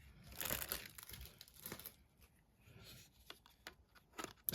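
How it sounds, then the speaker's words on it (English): Plastic wrapping is crinkled and pushed aside close up, giving soft intermittent rustles and crackly bursts with quiet gaps between them and no talk. "move this plastic out of the way"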